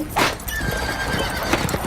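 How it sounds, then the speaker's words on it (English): A fire horse in a circus ring whinnies loudly, then its hooves clatter in a quick galloping rhythm before a second short neigh. "The fire horse is racing across the ring, bringing us closer and closer to the fire."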